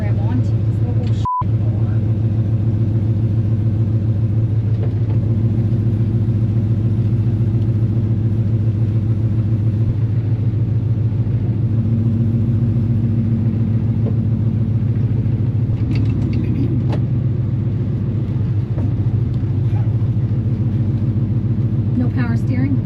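Car engine idling and running steadily through its first drive on a public road, a continuous low rumble with a brief sharp click near the start, and occasional faint movement sounds over the hum.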